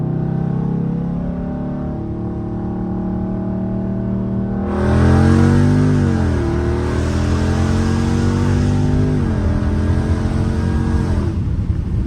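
A Dodge Scat Pack muscle car idles with a deep drone, then roars into hard acceleration from a 40 mph rolling start, its pitch climbing through several gear shifts before cutting off.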